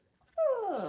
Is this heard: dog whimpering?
yes